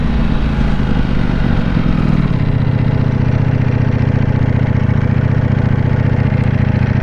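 A Ducati Panigale V4S motorcycle engine runs close by, a loud, throaty rumble that drops from a higher rev into a steady, lower idle partway through.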